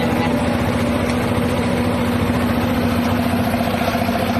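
A Honda ADV motorcycle engine idles nearby after being flooded with water, a constant low rumble with slight vibration and no change in pace.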